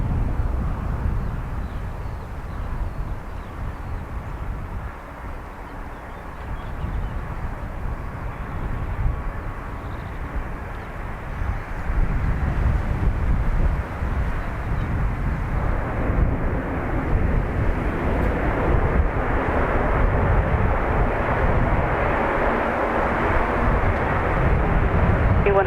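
Aircraft at Dublin Airport, a broad distant engine roar that stays low and continuous and swells in the second half, heard faintly without talk.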